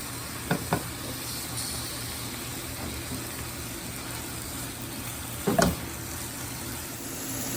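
Zucchini sauté slowly in a covered pan with a steady, even sizzle. A couple of brief clatters break in early and again near the middle, with no talking.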